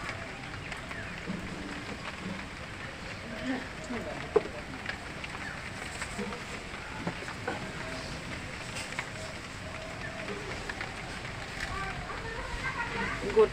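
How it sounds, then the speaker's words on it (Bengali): Mustard oil hits a hot wok on the stove, giving a steady, moderately faint hiss and sizzle that runs evenly throughout with small pops, and a voice sits low underneath. "কড়াই গরম হয়ে গেছে, আমি সর্ষের তেল দেবো।"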